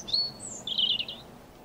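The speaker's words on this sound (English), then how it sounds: "It's a robin." A robin's bright, high chirps from an outdoor countryside scene, two short clear phrases close by over a quiet background.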